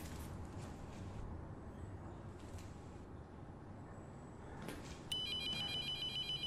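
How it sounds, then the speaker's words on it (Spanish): Faint telephone bell ringing inside an abandoned building in a horror video game, repeated rings over a low ambient rumble, growing a touch louder near the end as a sharp electronic tone cuts in. "Un teléfono sonando, ¿cómo es posible?"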